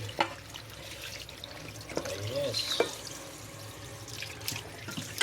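Cold tap water runs over pork belly (liempo) in a kitchen strainer, rinsing it before frying. A steady, moderate splash sits in the background while a person talks over it.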